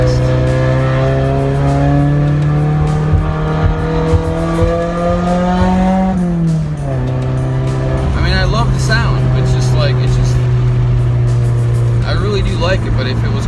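A straight-piped 2015 Subaru WRX Stage 2+ accelerates with a loud, close engine drone whose pitch climbs, dips at a gear change, then drones on steadily with crackling exhaust bursts.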